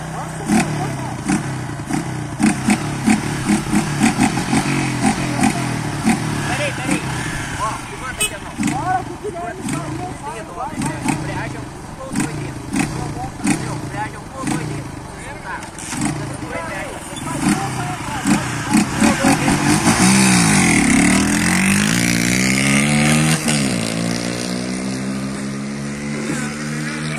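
Honda Fan 125 motorcycles, a 2008 and a 2009, in a street drag race: engines rev and rise in pitch through the gears, growing louder toward the end, while people talk and shout throughout.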